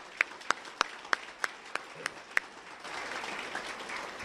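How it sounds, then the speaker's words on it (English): Eight sharp, evenly spaced claps ring out at a Memorial Day Honor Flight event honoring veterans, then softer, broader audience applause swells in beneath them, all fairly faint. "how about another round of applause for all of our 47 veterans here today?"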